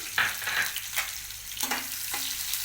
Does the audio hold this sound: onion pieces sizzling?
yes